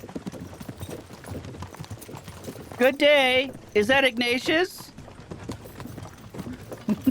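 Horse hooves clip-clop steadily in the medieval video game Kingdom Come Deliverance 2, a soft rhythmic patter heard throughout beneath louder spoken dialogue in the middle.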